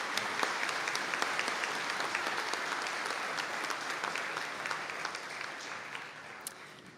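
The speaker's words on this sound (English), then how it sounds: "And could we give them all a round of applause, please?" A conferring ceremony audience applauds the newly named graduates, steady, moderately distant clapping from many hands that softens slightly toward the close.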